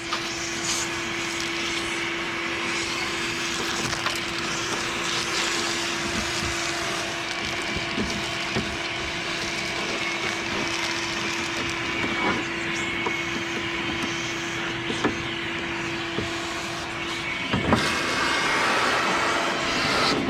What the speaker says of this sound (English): What you're gonna do is vacuum all in here